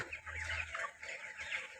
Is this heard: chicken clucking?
yes